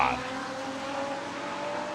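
A Porsche 917K race car with a flat-12 engine roars past, loud and close, in a sustained, raspy howl with a slight tire squeal at the start.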